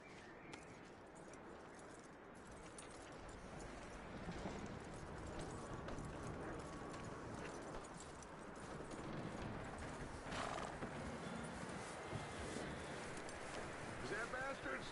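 Horse hooves clip-clopping steadily in Red Dead Redemption 2, with a whinny along the way, wind and outdoor ambience beneath, and voices talking over it.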